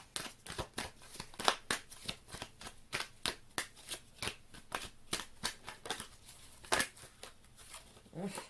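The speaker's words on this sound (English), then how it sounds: "Now I'm going to just hand shuffle some higher love oracle cards for you guys" Higher love oracle cards being shuffled by hand, a quick run of crisp riffling bursts in an irregular rhythm, close and fairly quiet, with brief pauses between shuffles.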